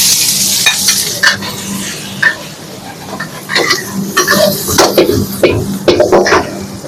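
Vegetables tossed into a hot pan with carrot and minced garlic, sizzling loudly while being stirred, with scraping spatula strokes and clinks against the pan.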